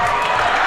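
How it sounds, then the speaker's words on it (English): A high school basketball crowd roars after a dunk in a DGF game, a dense, loud sustained cheer filling the gym for under a second. "Owen Leach gets the DGF crowd on its feet."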